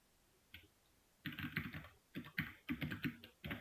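Close, crisp computer keyboard typing in quiet surroundings: an isolated click, then a rapid run of keystrokes while a sudo command is entered, ending with a final press of the Enter key.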